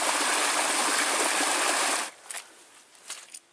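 A running stream with little rapids beside a trail on Grand Island, Michigan, rushes loudly and steadily up close, then cuts off abruptly partway through, leaving faint scattered trickles and rustles.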